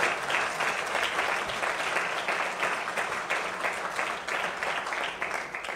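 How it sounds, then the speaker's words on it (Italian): Sustained applause from a sizable audience at a political training school event in Milan, dense and even clapping that holds steady for several seconds without talk. "fatevelo un applauso"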